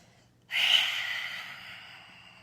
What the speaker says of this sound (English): Couple exhales out the mouth.